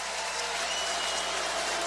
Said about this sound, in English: Now you can hear the crowd get behind this Michigan defense